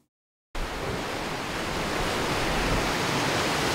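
Ocean waves captured with a Zoom M3 MicTrack microphone come in as a steady, loud, broad wash of surf that starts abruptly after half a second of silence and continues evenly, with no voices.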